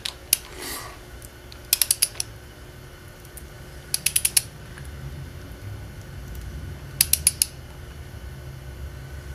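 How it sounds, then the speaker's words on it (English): A torque wrench clicks while tightening Subaru head gasket bolts, sharp close clicks coming in short bursts of three or four, separated by quiet pauses over a faint background hum. "Turn the torque wrench till it clicks."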